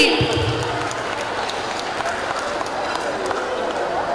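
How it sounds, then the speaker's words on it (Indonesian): A school audience at a high school induction ceremony in Palembang claps in sustained, even applause, a dense wash of hand claps from many people. "Tepuk tangannya dong sekali lagi."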